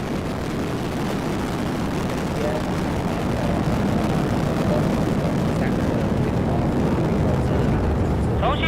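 Rocket liftoff engine roar, a continuous broadband rumble that holds steady and loud for the whole stretch, with faint radio voices beneath it.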